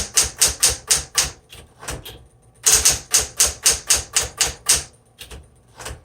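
Typing on a 1960s Smith Corona Coronet Electric 12 electric typewriter: close, crisp mechanical key strikes in quick rhythmic runs, with a short pause partway through, no talking.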